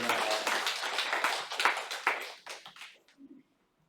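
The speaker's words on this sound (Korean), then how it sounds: "하나님께 영광의 박수하겠습니다." A church congregation breaks into a burst of clapping in praise, dense and lively at first, then thinning to scattered claps and fading out near the end.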